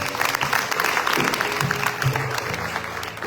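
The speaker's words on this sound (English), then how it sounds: "please give them a round of applause" Applause from a concert audience at a Hindu devotional music evening, a steady broadband patter of many hands filling the whole stretch with faint tonal traces beneath, no talk over it.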